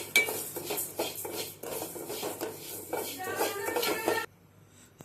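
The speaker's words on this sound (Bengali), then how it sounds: "মুগ ডাল প্রথমে ভেজে নিতে হবে লাল লাল করে" Mung dal is dry-fried in a pan until reddish, with a spoon scraping and stirring against the pan in repeated strokes, close and fairly loud, with faint sizzling under it before it cuts off near the end.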